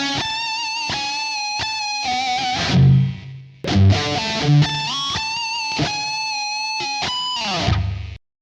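Electric guitar from a solo, played loud with effects, picking a run of notes with bends and releases, occasional low muted hits, then cutting off abruptly.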